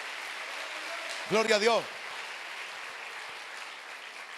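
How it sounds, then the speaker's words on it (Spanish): A church congregation applauding, a broad steady clatter of clapping under a voice speaking in a raised tone. "dele fuerte el aplauso, porque es para el Rey de Reyes y Señor de los señores"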